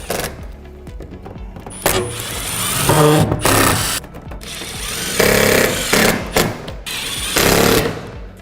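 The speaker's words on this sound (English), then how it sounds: "You want to screw in your first left-hand corner and work your way into each valley" A power drill drives screws into the valleys of a metal roof while a flash kit is fitted, making loud, uneven whirring bursts with brief stops and clanks between screws.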